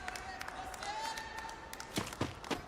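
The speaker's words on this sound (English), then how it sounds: "Crowd goes crazy down there out of that fight." Crowd at a Free Fire esports tournament event cheers and applauds, a broad roaring wash with sharp claps toward the end, heard beneath a commentator's voice.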